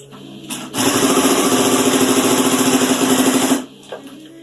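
A sewing machine stitches binding onto a blanket at a 3/8-inch seam allowance, running in one loud, rapid, rhythmic burst of about three seconds before stopping, with brief quiet handling sounds on either side.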